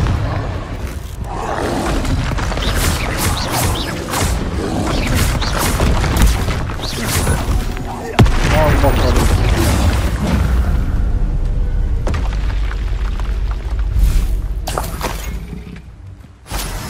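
Repeated Confringo fire-spell explosions in the Hogwarts Legacy video game, a dense run of loud booms and crashes with a sharp blast near the middle, layered over continuous combat rumble.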